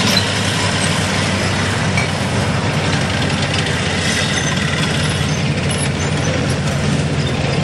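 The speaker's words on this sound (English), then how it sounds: "You notice the engine at the back, you can see the fan going at the back." A military vehicle's rear-mounted engine running loud and steady while it tows a British 5.5-inch howitzer at an outdoor military show, a continuous broadband rumble with no speech.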